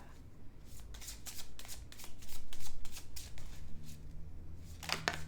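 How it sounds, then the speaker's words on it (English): A deck of tarot or oracle cards being shuffled by hand, a run of quick riffling bursts in a steady rhythm, close and fairly loud, ending with a few softer taps. "I want to get another card out here."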